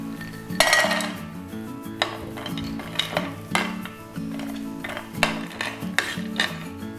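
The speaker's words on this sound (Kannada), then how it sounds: "ಈ ತುಪ್ಪದಲ್ಲಿ ನೀವು ಡ್ರೈ ಫ್ರೂಟ್ಸ್ಗಳನ್ನು ಸ್ವಲ್ಪ ಫ್ರೈ ಮಾಡಿಕೊಳ್ಳೋಣ" Dry fruits are stirred and fried in ghee in a pan, a spoon clinking and scraping against the metal in irregular strokes over a soft background hum.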